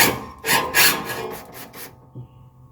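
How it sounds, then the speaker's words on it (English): A screwdriver turns out a ground strap screw on a 1985 Mercedes 300D, a series of short, close scraping rasps that stop abruptly, followed by quiet. "Actually, I can unscrew that one right here."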